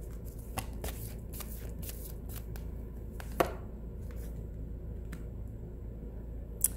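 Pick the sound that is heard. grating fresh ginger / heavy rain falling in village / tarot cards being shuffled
tarot cards being shuffled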